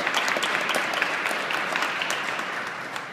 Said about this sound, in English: She deserves just a huge round of applause.